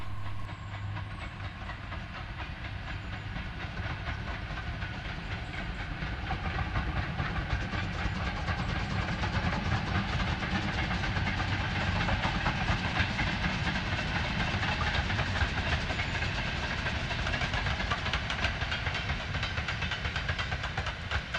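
The B1 steam locomotive hauling a freight train on a heritage railway, giving a continuous loud rumble and hiss with rhythmic clatter that holds steady throughout.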